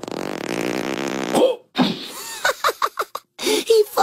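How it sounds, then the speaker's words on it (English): A loud, long, buzzy fart rips out near the start of a Teen Titans Go! movie trailer, followed by a short pause and then quick bursts of talking. "He farted."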